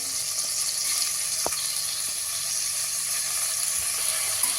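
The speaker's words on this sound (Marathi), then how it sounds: "तांदूळ पण थोडेसे परतून घेऊया आलं लसूण पेस्टही तांदूळ परतताना घालते" Rinsed rice and ginger-garlic paste sauté in a pan for onion pulao, giving a steady close hiss of frying with a few faint scraping knocks of stirring, and no talking.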